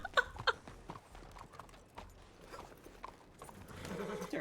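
Horse hooves clip-clop in a video game, a few sharp nearby hoof strikes at the start, then faint irregular steps over background game noise.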